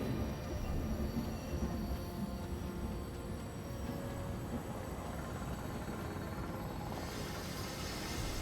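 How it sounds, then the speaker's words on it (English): The Orient Express rolls along its rails, a steady rumbling clatter that stays constant throughout and sits moderately far off, with no voices. "This train is a beautiful machine."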